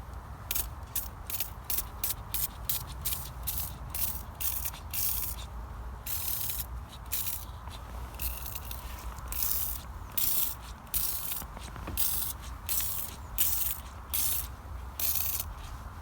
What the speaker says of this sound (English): We've put a good layer of degreasing spray over the top side of the tractor now